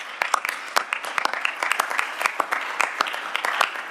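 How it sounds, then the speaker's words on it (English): A festival audience applauds the organisers, many hands clapping in a dense, lively burst that runs throughout, with a faint voice now and then underneath. "So could we all just give a real round of applause?"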